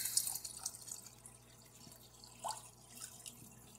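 Water splashes and trickles as it is poured from a cup into an aquarium, with drips and small gurgles over a low steady hum, close by.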